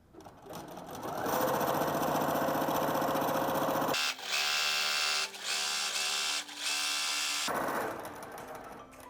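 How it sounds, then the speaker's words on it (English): A computerized sewing machine quilts along the outside edge of a fabric spring banner, with a loud, fast mechanical whir of stitching that runs steadily, pauses briefly a few times, then winds down. "I'm gonna pull up my bobbin, and then I'm gonna press sew, and it'll get started for me"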